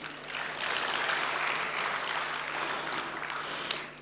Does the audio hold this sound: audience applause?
yes